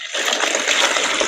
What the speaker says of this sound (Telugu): దీంట్లో వాటర్ ని వేస్తున్నాను.